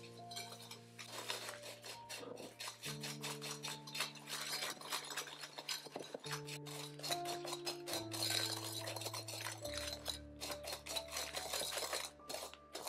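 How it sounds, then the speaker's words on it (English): Egg yolks and sugar are mixed in a bowl, the utensil clinking and scraping steadily against the bowl in quick, light strokes beneath background music. "In a bowl, mix egg yolks with sugar."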